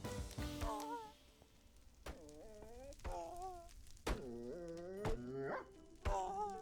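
Dog barking in Minecraft: a series of short, harmonic barks and yips recurring about once a second, fairly loud and close, with no talk over them.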